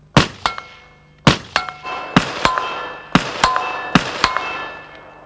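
Standard 5.56mm rounds strike armor plate backed by two spaced steel witness plates at a 100-meter range, giving sharp metallic clangs in three quick bursts of two to three impacts each, loud and ringing, with no talk.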